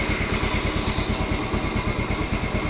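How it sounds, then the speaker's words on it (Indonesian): A Yamaha Vega R motorcycle engine idles steadily nearby after being kick-started, its loud, even, rapid putter holding a constant pace the whole time with no voices. "Kemudian setelah hidup motor keadaan langsam"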